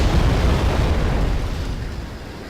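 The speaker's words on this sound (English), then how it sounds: "Here comes that second infantry rocket. It's probably going to take that out. There goes that tank." A heavy explosion in the tank wargame Wargame: European Escalation as an infantry rocket destroys a tank: a loud, booming blast right at the start, with a deep rumble that slowly fades, with no talk.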